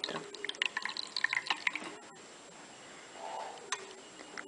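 Liquid is poured into a filter and drips through it during a filtration step, giving a cluster of small, close, quick drips and trickles that thin out into a quieter, slower patter. No one speaks.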